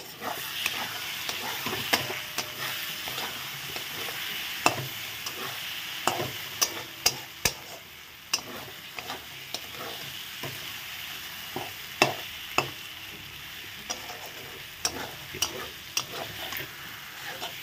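Spiced masala paste being stirred and fried in oil while cooking a bhola fish curry, steady soft sizzling with frequent sharp scraping ticks of a spoon against the pan, close and alone.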